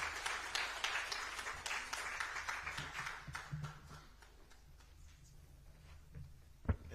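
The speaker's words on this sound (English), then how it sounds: "Another round of applause to Dr. Aboud Flame Njumbe." Conference audience applauding after a speech on food systems, a broad burst of many hands that gradually thins and fades toward quiet, with a single sharp knock near the end.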